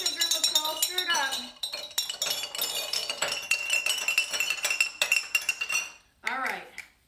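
Spoons stirring and clinking against glass jars of sugar water, a busy run of close, rapid chimes and rattles that goes on for several seconds, while a voice talks during the opening and again near the end.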